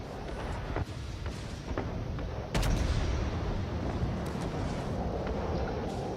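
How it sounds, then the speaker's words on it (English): Naval gunfire from several enemy warships in World of Warships, a steady roar of overlapping cannon blasts and rumbling explosions with one heavier boom partway through, dense and continuous throughout. "because there's like 6 enemy ships shooting at me"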